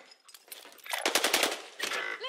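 Gunfire in the video game Warzone, a rapid automatic burst of close, loud shots in a tight cluster, followed by a shorter second burst.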